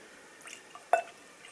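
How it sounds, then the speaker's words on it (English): Whisky poured into a glass, heard as a faint quiet trickle with one brief splash about midway. "I'm gonna pour the whiskey in here"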